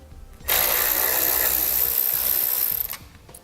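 A ratchet or power ratchet runs on a 7mm bumper fascia bolt of a 2015 Chevrolet, making one close, loud, continuous buzzing whir of about two and a half seconds that starts and stops abruptly, with no talking.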